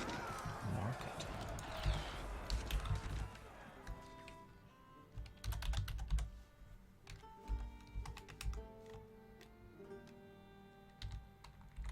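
Typing on a computer keyboard late at night during a strategy game, bursts of rapid clicking keystrokes near the microphone, interspersed with sharp individual key taps and clicks over a faint background.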